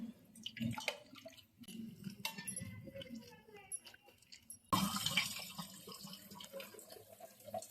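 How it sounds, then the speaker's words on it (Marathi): Vegetables for pav bhaji are washed under a running tap at home, with splashing and trickling water that grows louder partway through while people talk nearby. "आता भाज्या चांगल्या धुवून घ्यायच्यात"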